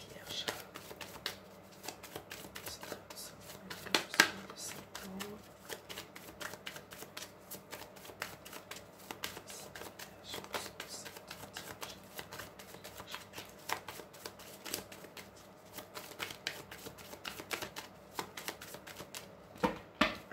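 Lenormand oracle cards shuffled by hand for a reading, a steady quiet run of soft riffling and flicking card sounds lasting the whole stretch with no talking.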